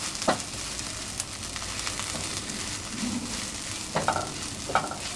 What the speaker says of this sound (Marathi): हे मसाले टाकून आधी मस्त आपण मिक्स करून घेऊया।